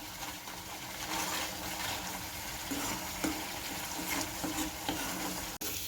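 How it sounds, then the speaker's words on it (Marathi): Masala frying in oil for an onion bhaji, a dense steady sizzle close up with a few soft spoon scrapes and taps, no voices. "आता मी हा मसाला ना तेल सुटेपर्यंत परतून घेणार आहे"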